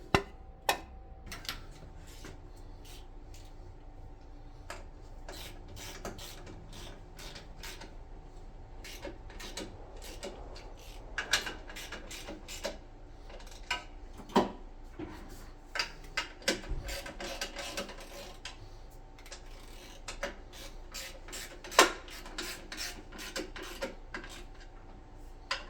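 A 650SX jet ski nozzle is bored out on a shop-made fixture, giving a steady rasping, scraping cut with scattered ticks and knocks, close and continuous for a long stretch.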